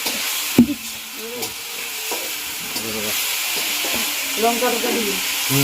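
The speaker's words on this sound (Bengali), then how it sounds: "এখন পেঁয়াজ মোটামুটি কষানো হয়ে গেছে প্রায় এবার আদা রসুনটা দেবো" Onions frying in a pan as ginger and garlic go in produce a loud, steady sizzle with a few sharp clanks and stirring scrapes. Brief voiced sounds surface faintly in the background.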